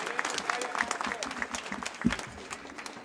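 An audience at the opening of the Antica Fiera di San Gregorio gives a round of applause greeting president Luca Zaia, clapping moderately loud and steady over a brief stretch, mixed with crowd murmur.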